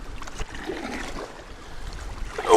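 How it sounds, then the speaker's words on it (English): Steady wind buffeting outdoors in the Boundary Waters Canoe Area wilderness, a low rumbling roar with broadband rush that swells louder at the end, no voices. "Oh man, it's windy."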